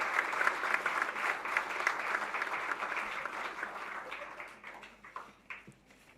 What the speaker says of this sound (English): I'm sure we should have another round of applause for this great keynote address.